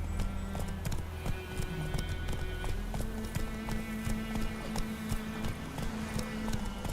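Hooves of Roach, Geralt's horse in The Witcher 3, pound out a fast regular clip-clop at a gallop, near and loud, running through the whole stretch beneath a low musical drone.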